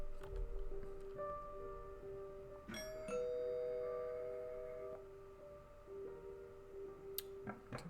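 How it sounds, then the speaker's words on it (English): A chiming doorbell in a video game rings out clearly, its tones sustaining and overlapping before fading, with a few soft clicks and taps around it. "ring the doorbell"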